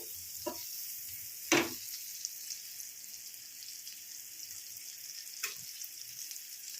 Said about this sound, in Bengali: তো এটাকে ভালো করে ভেজে নেব।